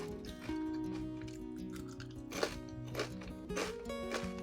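Chewing thin, crunchy homemade sourdough crackers made with chia seeds, with a few distinct crisp bites and crunches up close over a faint steady background tone.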